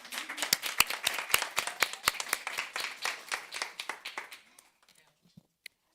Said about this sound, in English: let us give this Seal of Biliteracy recipients another round of applause